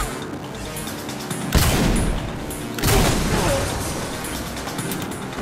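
Gunfire in Saints Row IV: two loud, sudden blasts land about a second and a half apart over a dense, continuous din of game action and explosions, with a faint voice underneath.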